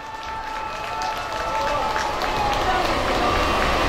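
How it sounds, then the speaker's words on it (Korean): Steady crowd applause welcomes the head of the Yonsei University national-salvation alumni group to the podium at a Korea University pastors' national repentance prayer rally, a dense clapping wash that swells slightly and holds for the full stretch. "박수로 맞이해 주십시오"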